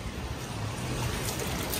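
Warm spring water flows out of a pot-shaped stone at a hot spring in Himachal Pradesh, making a steady, soft, continuous trickle and rush with no breaks.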